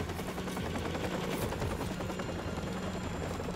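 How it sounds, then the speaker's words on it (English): Steady rotor drone of a helicopter in Call of Duty 4: Modern Warfare, loud and continuous beneath scattered gunfire, with no voices. "Where's the chopper?"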